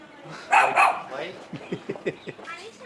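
Two sharp dog barks ring out close and loud in quick succession, followed by people talking in French.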